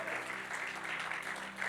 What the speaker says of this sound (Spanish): un aplauso para el Señor.